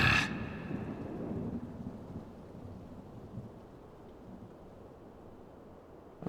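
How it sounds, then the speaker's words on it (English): Thunderstorm in Final Fantasy XIV: a rumbling thunderclap opens and rolls away into steady soft rain and low wind, fading to a quiet hiss before a small burst at the very end. "Definitely an evil thunderstorm."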